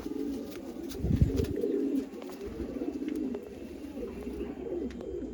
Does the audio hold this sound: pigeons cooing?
yes